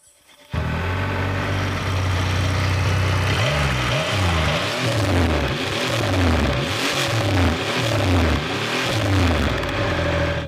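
A Triumph Rocket 3 GT motorcycle engine starts, then settles into a deep, close rumble punctuated by a regular series of throttle blips that rise and fall roughly every second, with no talking.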